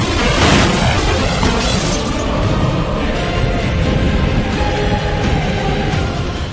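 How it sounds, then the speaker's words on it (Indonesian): A loud, sustained roaring blast with crackling debris that rumbles on for several seconds without fading much, like a vehicle explosion close by. "mobilnya meledak dan Logan Lee meninggal di tempat."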